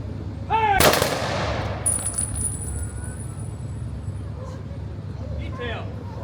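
Single sharp rifle volley fired by a ceremonial detail at a Veterans Day parade and ceremony, one loud crack near the start followed by a lingering outdoor echo, with shouted commands and crowd noise around it.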